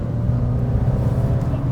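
A 2018 Alfa Romeo Giulia's engine while cornering gives a steady, low, droning rumble from inside the car, with a constant mid-level hum and no sharp changes.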